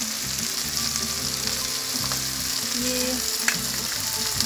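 Chicken frying in a pan with red chili powder, salt, chicken masala and Kashmiri chili powder for chicken chili gives a steady, close sizzle with stirring and scraping, and no talk.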